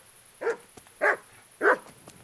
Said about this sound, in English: Carry on barking at nothing